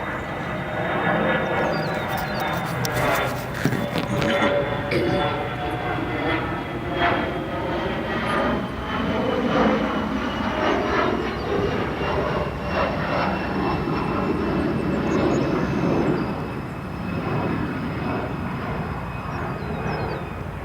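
A CRJ regional jet lands at O'Hare airport, its engines roaring loudly and continuously as it rolls out and slows on the runway, a steady broadband rush with a faint whine throughout.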